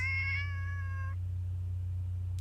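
A cat meow sound effect in a visual novel video game gives a single drawn-out, wavering meow lasting about a second over a steady low electrical hum, then the hum continues alone.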